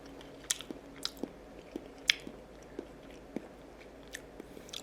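Someone eats steamed abalone cooked in cheonha rice wine with abalone-gut sauce, giving soft close-up bites and chewing with a few crisp crunchy clicks spread over several seconds, no talking.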